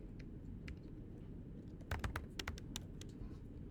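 Rapid clicks of a computer keyboard during Python coding, faint soft taps at first, then a denser burst of sharper keystrokes in the second half over steady background hum.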